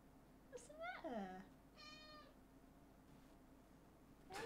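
A house cat meows up close into a streamer's microphone: a sliding cry, a longer wavering meow, then a brief loud one at the end, with quiet room noise between calls.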